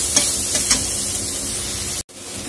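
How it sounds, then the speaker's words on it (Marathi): Spring onion greens sauté in a hot pan with a loud, steady hiss, broken by a few soft stirring taps and one brief dropout near the end. "आणि थोडेसे कांद्याचे पात घालणार आहोत आपण आणि ते असं 1 मिनिटभर असं परतून घेणार आहोत"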